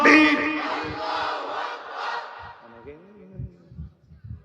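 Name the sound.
crowd shouting the slogan Nara-e-Takbir in response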